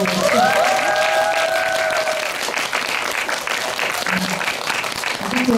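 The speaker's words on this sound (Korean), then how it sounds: "우리 다 같이 박수 한번 치고" Audience applause at a film Q&A screening at a cinematheque, a small crowd clapping steadily and loudly throughout, with a brief voice-like tone near the start.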